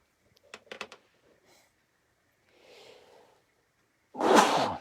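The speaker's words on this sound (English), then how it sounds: "you ever wonder why you want to sneeze right at the time you're doing a show?" A single loud sneeze bursts out near the mic at the end, following a few faint breaths and small mouth sounds in a quiet room.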